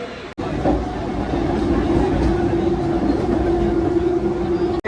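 Steady rumble of a moving Mumbai local train heard from inside, a droning hum with a faint rattle throughout, close and fairly loud.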